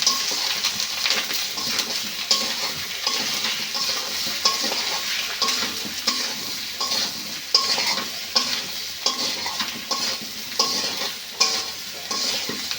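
Ground spices, salt, turmeric and chili powder sizzle in hot oil for a village-style silver carp curry, with continuous frying hiss and steady rhythmic spatula strokes scraping the pan throughout.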